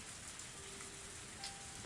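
Rain falls steadily in the Higurashi video game, a dense, soft hiss of drops on surfaces that stays even and low throughout, with no voices.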